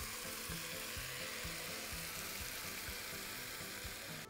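Chicken and onions sizzle in a frying pan as they are stirred, producing a steady, faint hiss of frying with repeated low scraping strokes in a regular rhythm.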